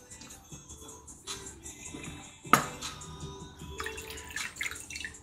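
White wine poured into a glass while cooking clams in wine broth, a light trickling, splashing pour with small drips and a clink of glass, close by, over a soft background hiss.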